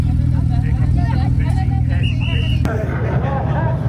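A supercar engine pulls away loudly at the unveiling of the Porsche P39, a Le Mans hypercar-inspired car. A steady heavy rumble plays under crowd chatter and a voice talking over it.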